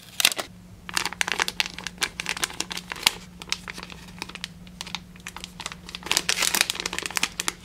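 Crinkly plastic packaging for a crystal scoop bag being handled and sealed with a sticker, close sharp crinkles and taps in irregular bursts, fairly quiet, with no voices.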